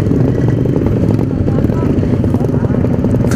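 A Yamaha RX King two-stroke motorcycle revs hard while being ridden, its loud, raspy engine drone continuous and close throughout.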